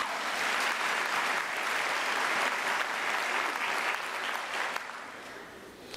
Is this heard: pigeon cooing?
no